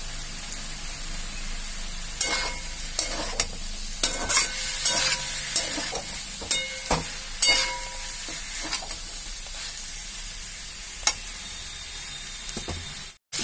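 Eggplant slices fry in a pan, a steady soft sizzle broken by repeated sharp scraping and clattering strokes as the pieces are stirred and turned.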